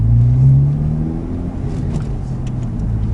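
Honda Civic fitted with a Magnaflow exhaust and carbon fiber tips, running close by with a loud, steady low drone and a brief rise in pitch at the start before settling.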